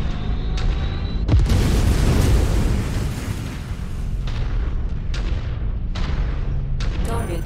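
A mech in MechWarrior 5: Mercenaries goes critical and explodes in a loud, sustained roaring blast, followed by several sharper booms and cracks of weapon fire spread across the rest of the stretch.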